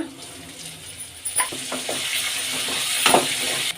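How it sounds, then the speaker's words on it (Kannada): Garlic, ginger and green chillies fry in hot oil for a yogurt onion tempering, giving a steady close sizzle with a few sharp stirring scrapes and clicks against the pan, no talking. "ಈಗ ಶುಂಠಿ ಬೆಳ್ಳುಳ್ಳಿ ಸ್ವಲ್ಪ ಫ್ರೈ ಆಗಲಿ"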